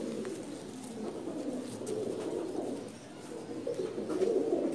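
Pigeons coo softly in a busy Dhaka pigeon market, a low continuous murmur of overlapping coos at moderate distance.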